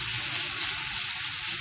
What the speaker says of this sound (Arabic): je vais les faire revenir tous dans la poêle et on verra la suite